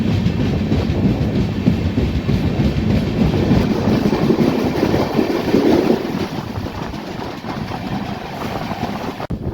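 A Deccan Queen Express train roars steadily through a tunnel on the Pune to Mumbai line, a loud, dense rumble with faint wheel clatter and rushing wind, easing slightly near the end.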